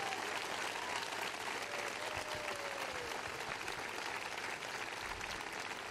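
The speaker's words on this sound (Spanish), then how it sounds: "Para ellos un fuerte aplauso" A large crowd applauds at a Spanish socialist party rally, the Fiesta de la Rosa in Oviedo, with sustained, fairly distant clapping that fills the hall evenly and has no speech over it.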